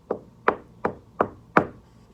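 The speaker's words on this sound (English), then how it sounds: "Jack knocked on the door" Five evenly spaced knocks on a door, firm and close, with a short ringing after each strike and nothing else heard.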